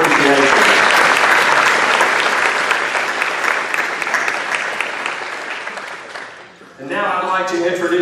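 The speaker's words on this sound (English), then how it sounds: "let's give them a round of applause and appreciation" Loud, sustained applause from a crowd at a legislative luncheon, gradually thinning toward the end before a voice begins speaking.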